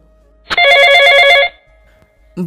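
A telephone ringing sound effect in a romantic audio drama: one loud electronic trilling ring lasts about a second, then stops abruptly into near silence before a short sound at the end.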